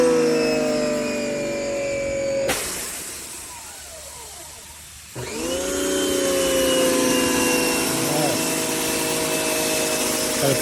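A Giraffe Tools wall-mounted pressure washer rated 2400 PSI and 2.0 GPM, mounted on a 6x6 column and fitted with a 25-degree tip, whines steadily, cuts out abruptly for a couple of seconds, then restarts with a rising motor whine that settles into a sustained hum.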